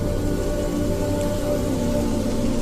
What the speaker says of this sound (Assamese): এজাক বৰষুণ